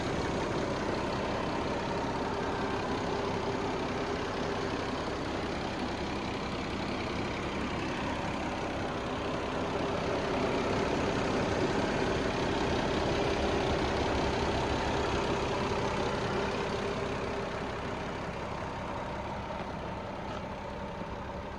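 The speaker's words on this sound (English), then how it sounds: "you get your 3-liter inline 6. Everything running good and fantastic." A 2026 BMW M440i RWD with a 3-liter inline-six idling, a steady, even low hum that holds for over twenty seconds with no talk over it.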